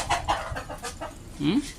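Native country chickens on a farm near Madurai cluck in a few short close calls, with a louder squawk near the end and a faint background murmur.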